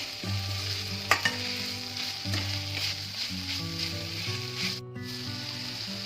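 Beetroot stir-fries with salt in a pan, a close, steady sizzle broken by occasional spatula clicks and scrapes. A soft melodic tune plays underneath throughout, and no one speaks.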